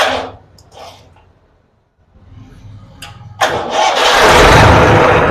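The engine of a new-model double-fan cyclone paddy threshing machine starts up after some faint earlier sounds, then roars loudly and steadily close by.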